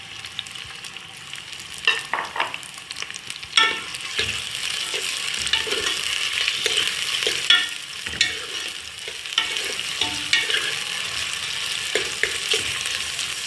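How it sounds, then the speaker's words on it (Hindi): Onions sautéing in about a cup of oil for haleem, a steady close sizzle punctuated by repeated scraping stirs and clinks of a spoon against the pot, without speech. "प्याज को थोड़ा सा हमने सौते करना है"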